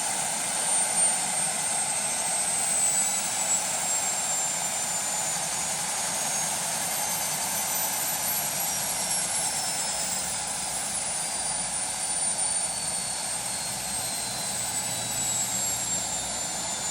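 Starwood turbine engine on an RC Lama helicopter idling, a steady loud high-pitched whine with a broadband roar that holds evenly for the whole stretch, close up with no talk.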